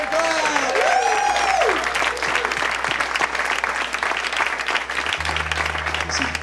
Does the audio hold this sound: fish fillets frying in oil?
no